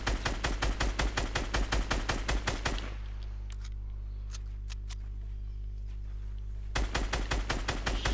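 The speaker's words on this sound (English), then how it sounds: "Shooting at teammate, shooting at teammate." Video game gunfire rattles in rapid, evenly spaced automatic bursts, loud and close. It stops for a few seconds over a low steady hum, then the rapid fire resumes.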